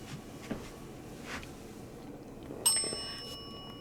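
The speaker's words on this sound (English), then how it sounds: "if somebody is actually using that bell to communicate with us" A small bell rings once during a paranormal investigation in the historic Savannah Theatre. The single clear, close chime rings out in a quiet room and slowly fades.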